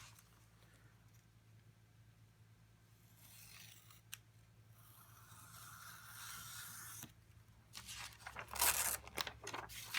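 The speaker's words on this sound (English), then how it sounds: "I'm going to go ahead and just cut out this page here" An X-Acto knife cuts out gold paper, with faint scratchy strokes early on that build into louder, rapid rasping cuts near the end.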